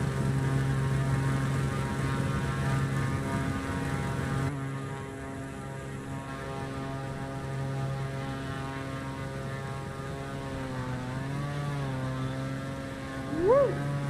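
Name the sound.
airplane engine throttling up in Microsoft Flight Simulator video game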